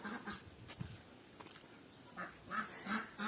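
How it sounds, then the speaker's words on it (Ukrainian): Domestic ducks quack softly at a distance outdoors, scattered calls growing a little more frequent toward the end against faint wind. "Зараз покажу вам качок, які мама нещодавно купила як вони швидко виросли."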